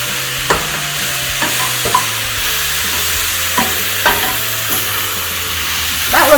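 Brussels sprouts fry and sizzle in a pan with a constant crackle, while a utensil stirs them in several distinct scraping knocks spread across the clip, close and fairly quiet, with no voices.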